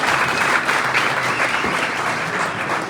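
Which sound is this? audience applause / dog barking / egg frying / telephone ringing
audience applause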